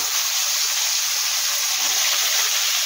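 Raw banana pieces sizzle in hot oil for an ilish (hilsa) curry, giving a steady loud frying hiss that stays broad and even throughout, with no voices.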